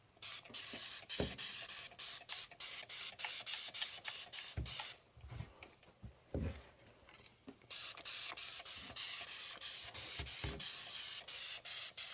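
Rapid hissing spritzes from a trigger spray bottle onto quilting fabric, repeated in quick bursts, close by and fairly quiet, with brief pauses between sets.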